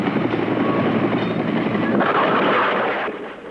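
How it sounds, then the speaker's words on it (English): Helicopters lift off from the U.S. Embassy rooftop during an evacuation, a loud, dense, continuous rotor roar that eases slightly near the end. "Most camera crews departed in the helicopters lifting off from the U.S. Embassy"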